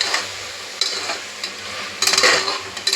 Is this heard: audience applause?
no